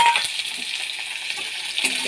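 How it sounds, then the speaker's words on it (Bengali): Chopped onions go into a pan of hot oil with toasted cumin seeds, producing a soft, steady sizzle with a couple of brief clinks at the start and end. "এই যে কুচিয়ে রাখা পেঁয়াজগুলো দিয়ে দিলাম।"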